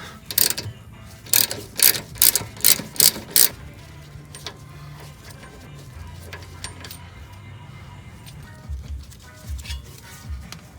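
A ratchet wrench spins off nuts on the subframe mounts of a Mitsubishi 3000GT drift car, giving a close run of six sharp, evenly spaced clicking bursts, then quieter clanks and faint mechanical rattles.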